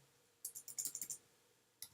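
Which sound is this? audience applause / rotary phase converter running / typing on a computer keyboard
typing on a computer keyboard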